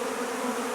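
A brief burst of loud honey bee buzzing around hives, a steady droning hum from many bees nearby.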